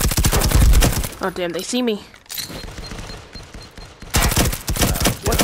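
Bursts of gunfire in the multiplayer video game Firewall come in rapid loud volleys at the start and again at the end. A player talks excitedly in between.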